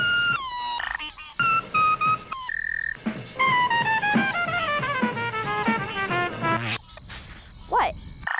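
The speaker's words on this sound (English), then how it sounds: "A frog does the same thing when it blows air out of its mouth and over its vocal cords to make some funky sounds." A frog croaks in a run of loud, funky, warbling calls that rise and fall in pitch, several in succession with short gaps between, close and clear with no talk.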